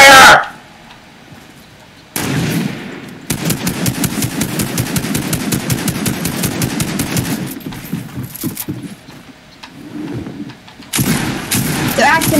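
Fortnite game gunfire: loud rapid automatic bursts in long rattling runs with short pauses between, and a player's voice shouting over the shooting.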